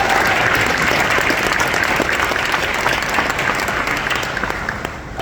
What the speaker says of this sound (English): How about a big round of applause for Coach Geriot?